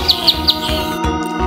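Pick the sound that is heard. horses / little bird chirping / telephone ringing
little bird chirping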